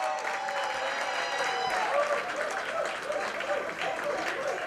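Applause and cheering from a crowd of police department members at a citizen-of-the-year dinner, a steady dense clatter of clapping that continues for several seconds with voices mixed in.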